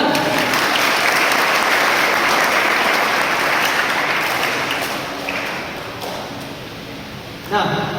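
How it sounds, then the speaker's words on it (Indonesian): Applause from a school audience at a guest-teacher session held by Suzuki at a vocational high school, a dense sustained clapping that stays loud throughout and eases off slightly toward the end. "Terima kasih, tepuk tangan."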